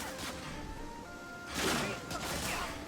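Gunfire from a weapon in the video game Medal of Honor Frontline, a couple of bursts of shots over a steady background hum, with someone talking quietly at times.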